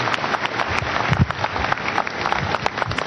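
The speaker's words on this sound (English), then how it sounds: "Shall we clap for Jesus Christ?" Church congregation clapping in praise after a healing testimony, dense and continuous handclaps at fairly loud level, with scattered sharper claps standing out against the rolling mass.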